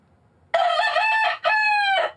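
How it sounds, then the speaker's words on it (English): Rooster crowing among chickens, two long loud crows in a row with a short gap between, clear and close over a quiet background. "Something about them chickens."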